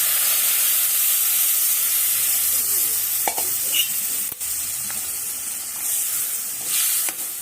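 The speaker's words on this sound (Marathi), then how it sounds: "यात आता मी ही शिजवलेली मूग त्या पाण्यासकटच घालून घेणार आहे" Cooked green mung beans with their cooking water poured into a pan for a mung bean amti, giving a steady, fairly loud sizzling and stirring hiss throughout with a few brief clinks.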